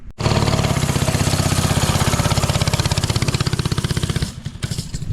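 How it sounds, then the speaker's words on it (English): An ATV fitted with a Predator engine runs loud and close, its rapid, even chugging pulse holding steady for several seconds before the engine cuts out abruptly near the end. "Got the Predator motor all hooked up."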